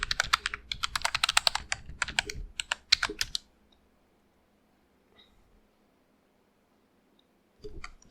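Fast clattering keystrokes on a computer keyboard for about three seconds while signing into a password manager, then near silence broken by a faint click and a short final burst of typing.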